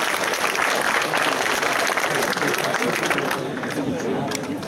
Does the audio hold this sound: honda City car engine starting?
no